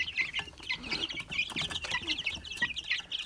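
Three-week-old chicks (Leghorn, Amrox, Bielefelder) cluck and peep busily in a continuous chatter, fairly close, with occasional rustling and wing flutters.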